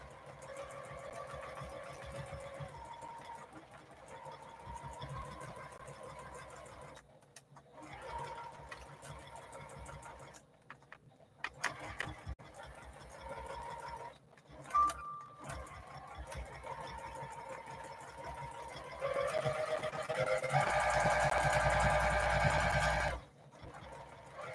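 A sewing machine running free-motion quilting on feathers: a steady close motor whir with stitching chatter that stops and restarts several times, growing louder in a sustained final run.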